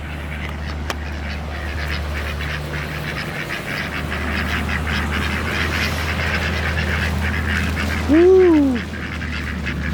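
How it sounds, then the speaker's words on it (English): Ducks on a pond in a cemetery give a short burst of loud quacking near the end, over steady outdoor background noise, with a man's brief exclamation earlier. "Look at the ducks."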